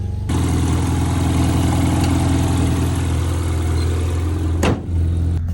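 An engine with suspected battery trouble runs steadily at idle after starting in a Ukrainian village, a loud continuous hum with one brief dip near the end, with no talk.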